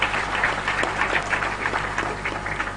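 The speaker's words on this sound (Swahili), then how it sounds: "Jipigieni makofi." An audience claps at a public announcement event in Kitui, producing a dense, steady wash of applause that lasts a few seconds with no speech over it.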